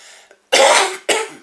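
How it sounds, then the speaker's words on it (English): Two harsh coughs, the second shorter, close and loud, preceded by a faint breathy noise. "I've got a tickly cough."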